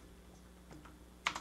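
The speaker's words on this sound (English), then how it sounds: "type in ipconfig" A few quick keystrokes on a computer keyboard while ipconfig is entered at a command line, faint and close, landing in a short burst near the end after quiet room tone.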